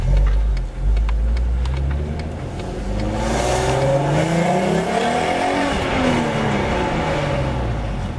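A VW VR6 V6 car engine runs loud and close, its deep drone rising and falling as it revs, with faint ticking early on.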